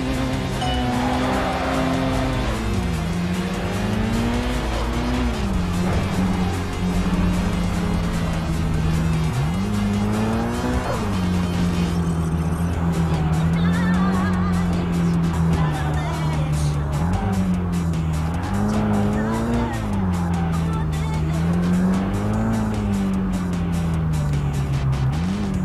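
A Honda Integra in the Kaido Racer 2 racing game drives hard, its engine droning and rising and falling through gear changes, with repeated tire squeals; loud and continuous throughout.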